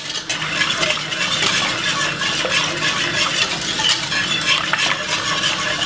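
A whisk beats cornmeal porridge seasoned with cinnamon and nutmeg, rapid metallic clinking and scraping against the pot, close and loud, continuing steadily for several seconds without speech.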